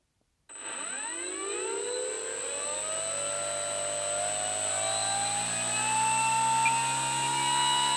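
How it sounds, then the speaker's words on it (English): An electric motor on an Arrows RC Husky 1800mm model plane starts abruptly and spins up its propeller, with a rising whine and harmonics climbing then settling into a steady close buzz, no talk. "I'm not sure how much I'm gonna spool up the prop, spin it up."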